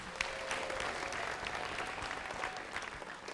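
A crowd claps warmly for two school debate teams at a high school debate event, a steady sustained round of applause filling the room for several seconds.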